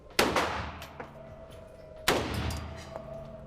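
Two single AK-47 rifle shots ring out about two seconds apart, each a sharp, close crack followed by a short fading echo.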